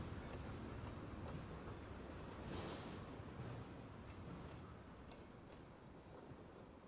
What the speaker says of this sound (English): Qu'il est en train de s'arrêter, le train?